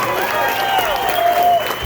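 Applause from a big band concert audience for the band leader, steady clapping from the crowd blended with lingering sustained tones from the instruments.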